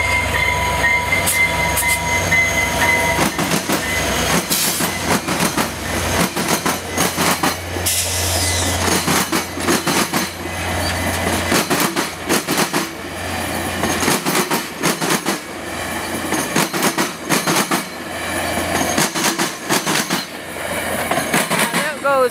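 VIA Rail passenger train 693 pulls out of Winnipeg at St. James Junction, a loud, continuous close rumble with rhythmic wheel clatter and squealing steel wheels that lasts throughout.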